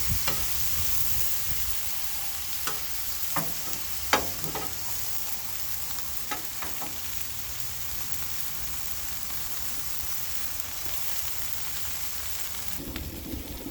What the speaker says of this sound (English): So we're gonna put the pineapple on and let the pineapple be able to cook up here.